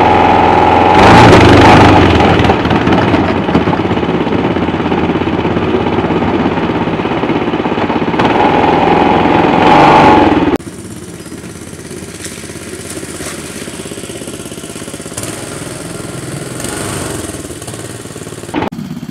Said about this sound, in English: It's just a battery drill propeller.